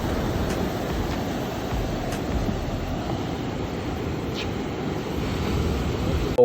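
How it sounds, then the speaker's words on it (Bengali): Steady roar of sea surf on the beach at Cox's Bazar, a continuous broad wash of breaking waves, loud and close, with no voices. "অ্যান্ড জাস্ট সমুদ্রের সাউন্ডটা শোনেন ভাই।"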